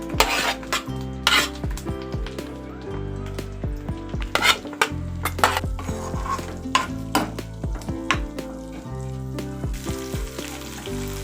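Green chillies cut into pieces fry and crackle in hot oil for coriander chutney, with steady sizzling broken by sharp pops and repeated stirring and pan scrapes.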